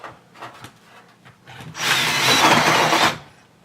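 A power drill bores a hole through an upper boot cowl during a Piper Super Cub Widebody refurbishment, with a few short taps and rubs before a loud, steady whirring grind of about a second and a half.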